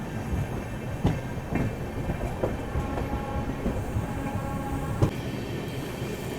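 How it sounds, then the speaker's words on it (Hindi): From aboard the Shri Shakti AC Express in dense fog, the Chhattisgarh Express passes on the next track with a continuous close rumble and sharp, irregular wheel-clack thuds. "सामने से आ रही है छत्तीसगढ़ एक्सप्रेस"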